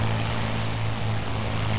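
A propeller airplane flies a knife-edge pass down a runway at about 300 feet, its engine producing a loud, steady droning hum with a low buzzing tone that holds constant throughout.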